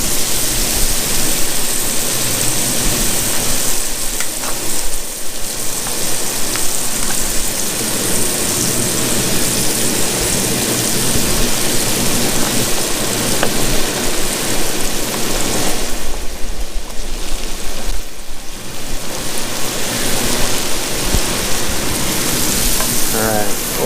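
Mushrooms sautéing in butter with onion on a cast iron pan alongside ribeye cap steaks, a loud, steady crackling sizzle close by that holds throughout, with brief dips as the food is moved.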